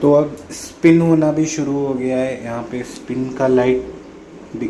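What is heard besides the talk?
No distinct noise like a dog, phone or traffic.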